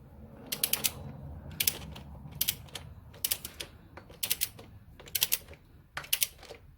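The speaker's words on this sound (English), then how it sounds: "you tighten this up by hand as far as you can and then finish it off with a torque wrench" A torque wrench tightens the oil filter union bolt while fitting a Subaru OEM oil cooler to a BRZ/FRS/86 car, giving short bursts of sharp ratcheting clicks in a regular rhythm, close by over a low rumble with no speech.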